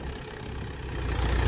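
A Mahindra Yuvo Tech+ 575 tractor engine running steadily while driving through a field, a low continuous rumble that grows slightly louder near the end, with no talking.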